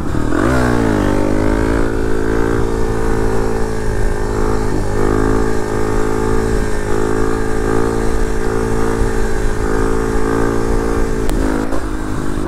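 A Kawasaki KLX300 dual-sport motorcycle ridden along a road toward trails, its engine droning loud and steady throughout with slight shifts in pitch as it holds speed.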